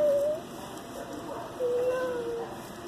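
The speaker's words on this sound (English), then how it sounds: "There's a kitty." A cat in a pet store gives two short meows, one at the very start and a longer one a moment later, over a low background hum of the store.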